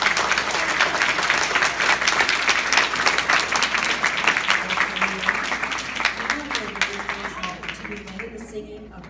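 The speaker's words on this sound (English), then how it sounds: "Let's give these gentlemen a round of applause." An audience gives a round of applause to performers at a patriotic sing-along event, dense sharp clapping that gradually thins and fades toward the end as voices and music begin underneath.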